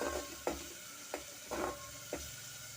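A spoon scrapes and stirs turmeric through sizzling food in a frying pan while making rasam, four distinct strokes over a steady frying hiss.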